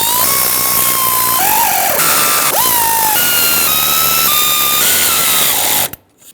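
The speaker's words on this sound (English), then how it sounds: "Let's thread on the bolts." A power tool whirs in bursts of rising and falling pitch while bolts are threaded onto the valve cover of a 2011-2018 Ram 2500 6.4L V8, several short spins running close and loud before cutting off abruptly.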